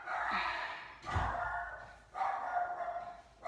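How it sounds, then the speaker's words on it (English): A dog barks a few times nearby in short bursts, with quiet room tone between them. "Sorry, that's my dog."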